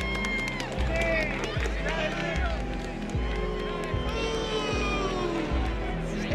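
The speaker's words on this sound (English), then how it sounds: "It's a New York crowd." Large racetrack crowd at the Breeders' Cup in New York, a continuous roar of massed voices and cheering with rhythmic low thumps, loud and sustained throughout.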